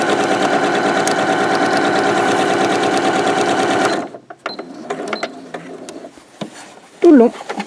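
A sewing machine stitches steadily along a fabric pouch in a loud, continuous run for about four seconds, then stops; afterward come quiet handling clicks and a brief rustle.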